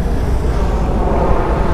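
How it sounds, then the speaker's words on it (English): A large four-engine airplane comes in to land near Canarsie Pier, heard as a loud, steady broadband roar with a deep low rumble that holds without letup throughout. "Can't tell what kind of plane it is, but it has 4 engines."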